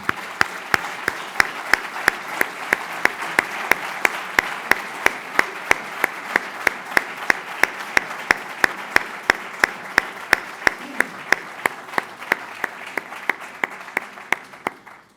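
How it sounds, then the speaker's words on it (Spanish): An audience at a public inauguration ceremony claps steadily to welcome an arriving guest, with a bright, even patter and sharp, regular accents running throughout the long stretch, no voices on top. "Pues como acaba de llegar don Fernando, le vamos a dar un aplauso."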